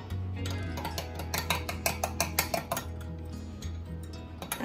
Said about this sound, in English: Just going to stir it up.